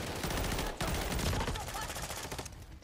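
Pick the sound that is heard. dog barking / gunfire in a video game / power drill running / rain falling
gunfire in a video game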